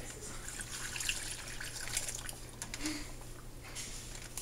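Homemade Asian-style salmon marinade with sugar pouring from a container into a bag holding salmon fillets, a soft continuous trickling splash of liquid heard close by and alone.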